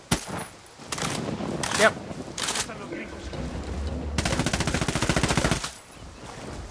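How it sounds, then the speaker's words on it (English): A rifle in Ghost Recon Wildlands empties its magazine in a rapid, even string of close, loud shots, preceded by a few scattered single shots and a brief spoken word. "I just emptied like a mag into a tree"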